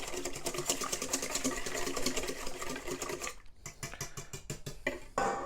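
Three eggs being beaten in a bowl give a fast, steady clatter of rapid strokes that later breaks into sparser, separate taps, with no talking.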